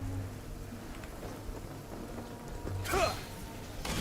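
Steady rain falls in the Genshin Impact video game, a soft continuous patter with a brief louder burst near the end.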